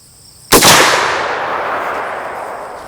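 A single sharp lever-action rifle shot fired at a target outdoors, a loud close crack followed by a long fading echo tail, with no talking.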